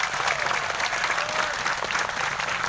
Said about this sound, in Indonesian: Tepuk tangan untuk NO Taiwan.